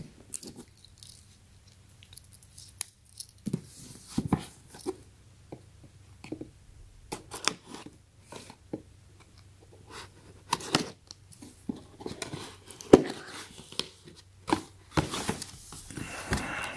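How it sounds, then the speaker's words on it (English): Clear packing tape is cut on the shipping box of an AKAI Professional MPK Mini MIDI keyboard, with scattered close snips, scrapes and crinkly plastic handling noises at irregular moments. "let's go ahead and cut this tape"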